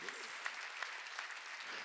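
Church congregation at a Wednesday worship service clapping in a rhythmic run of claps, with a voice speaking over it throughout.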